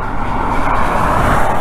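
A car rushes past on a New Mexico highway at night during a dust storm, a loud, continuous roar mixed with wind, heard alone without talk.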